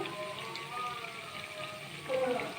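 Homemade french fries drop into hot oil and fry, giving a steady, dense sizzle and bubbling throughout, close up, with a slight surge near the end.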